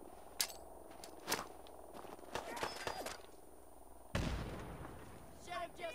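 Gunfire in Fallout 4: several sharp shots ring out at irregular intervals, mid-distance, with one heavier blast near the end, under a steady game ambience and a voice talking.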